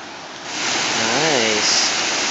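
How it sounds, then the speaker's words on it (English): A waterfall on Siquijor Island roars as a steady broad rush of falling water, rising in loudness after the first half second and holding constant, with a brief voiced sound over it. "You can hear the falls from here."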